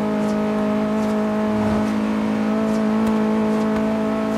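A Honda Civic racing in Forza Horizon 3 drones along at high speed, its engine a loud, steady, close tone that holds throughout with no voices over it.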